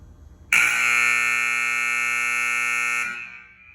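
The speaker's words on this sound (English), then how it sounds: "Let's watch the time and see if the auto horn goes off in about 5 seconds." A basketball scoreboard's automatic horn blares suddenly, a single loud, steady buzzing tone held for about two and a half seconds before cutting off and fading.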